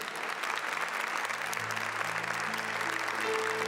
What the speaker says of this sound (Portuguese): Se você quer aplaudir, aplauda, mas aplauda para valer.